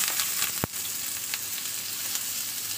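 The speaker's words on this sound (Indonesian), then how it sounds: "kita oseng-oseng sampai berbau harum" Spices sizzling and frying steadily in a hot pan, the first step of lemon chicken thighs, with a sharp metallic clink near the start and a continuous close hiss throughout.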